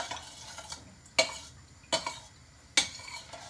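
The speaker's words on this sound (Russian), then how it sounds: "Сейчас я все хорошенько перемешаю и залью свою капусту" A spoon stirring sugar brine for pickling cabbage in a container, soft swirling liquid with three sharp clinks against the side at irregular intervals.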